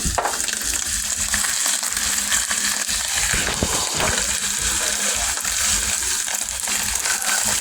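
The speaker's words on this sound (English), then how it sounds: "Now I'm going to add some crushed tomatoes" Canned crushed plum tomatoes from a 28-ounce can pour into a pot for baked rice, giving a steady wet splatter and sizzle that stays loud and continuous throughout.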